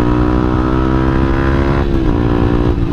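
A motorcycle engine fitted with a racing camshaft runs loud and close, a steady rough idle with a strong harmonic drone and a slight dip in pitch partway through.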